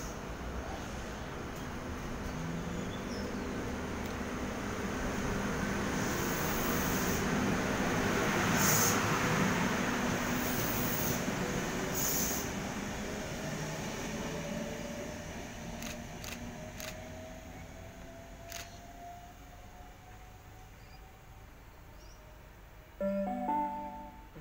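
A Sydney suburban train departs a station platform at Canterbury, its noise swelling then fading into a long, descending electric whine, with clicks and a thud near the end.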